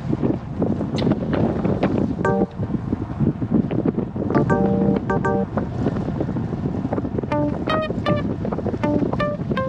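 Strong wind buffeting a microphone while cycling on a group ride, a steady broadband roar that swells and gusts throughout, with faint bird-like chirps and clicks breaking through now and then.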